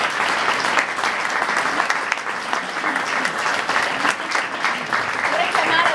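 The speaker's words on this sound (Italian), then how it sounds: "un ultimo applauso" Audience applause at an evening theatre event, a dense, steady wash of many hands clapping close by for the full stretch, with scattered voices faintly mixed in.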